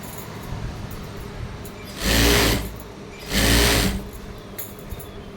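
Two short, loud bursts of a sewing machine stitching a saree fall, separated by a brief pause, over a low background hum.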